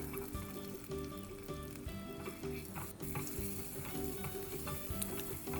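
Carrots shallow-fry in oil for a biryani, a dense, continuous close sizzle with light stirring, under a steady tonal background.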